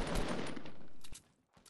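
Rapid automatic gunfire in a squad shooter game, a loud dense burst that cuts off abruptly and is followed by a single fainter shot in near quiet.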